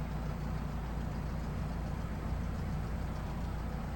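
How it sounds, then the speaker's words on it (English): Piper PA-38 Tomahawk light aircraft engine idling in X-Plane 11, heard from inside the cabin as a steady, low, continuous tick-over drone with no change in pitch throughout. "So, even inside, that tick over noise"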